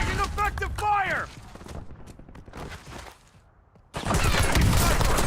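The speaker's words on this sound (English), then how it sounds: "Taking effective fire." Gunfire in Call of Duty Warzone: a voice is heard at the start, then a quieter stretch of scattered distant shots, and near the end a sudden loud, sustained volley erupts close by.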